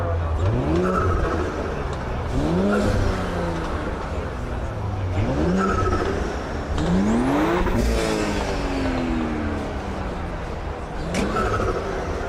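A turbocharged car engine with an induction kit revs repeatedly in short, rising bursts at a car show, about five sharp blips with loud intake roar and steady crowd-like background noise.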